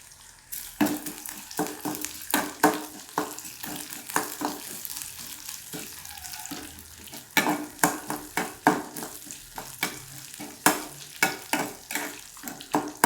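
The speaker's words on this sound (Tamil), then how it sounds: "வெங்காயம் வந்து வதங்கிட்டு இருக்குங்க" Onions sauté in a pan with urad dal and chana dal for a tomato-onion chutney, giving a steady close sizzle punctuated by frequent rhythmic scrapes and taps of a spatula stirring throughout.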